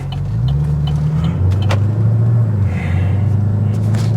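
A Chevrolet Camaro with a failing transmission driving steadily, its low engine drone loud and constant from inside the car, with the pitch stepping up and down as it shifts.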